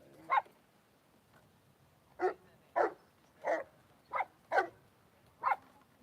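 A dog gives a string of seven sharp, fairly distant barks, spaced irregularly over a quiet outdoor oceanfront background with no talking.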